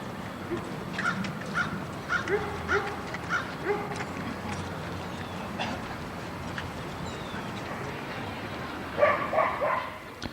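Dogs bark in scattered, mid-distance bursts in the dog owners' area of New York's Central Park, over a constant outdoor hum with crows cawing and faint voices.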